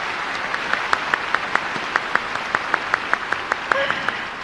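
Audience applause in a hall at the close of a university entrance-ceremony lecture at Meiji University, steady rhythmic clapping with sharp regular claps standing out above a dense wash of hands, no talking.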